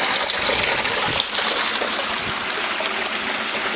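Water recirculated by a pump through a gold sluice set on a cinder block, heard as a steady, close rushing and splashing flow with no break and no talk.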